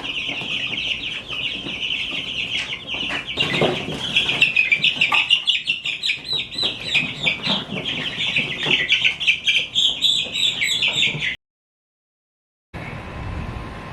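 Chicks in a brooder keep up a dense, continuous high-pitched chirping and peeping close by, with no talk, broken by a short silence near the end before the chirping resumes.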